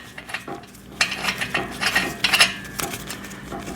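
Small metal hardware clinks and scrapes as a washer and nut are fitted onto a bolt during assembly of a VEVOR pec deck and rear delt home gym machine, with several close, light metallic rattles and clicks and no talking.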